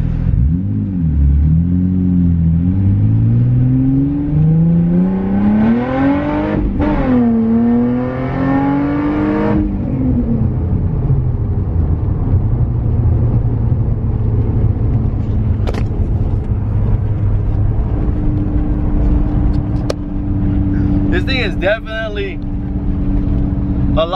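Nissan 350Z with muffler and mid-pipe deleted, a loud, raspy exhaust that revs up and down through gears early on, then settles into a steady, rumbling drone.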